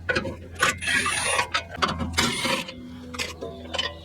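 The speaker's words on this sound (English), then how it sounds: "now I'm gonna remove the passenger side bolts from this transmission oil pan protector" A ratchet wrench removes the passenger-side bolts from the transmission oil pan protector on a Toyota Land Cruiser, producing loud, close, uneven bursts of metallic clicking and rattling.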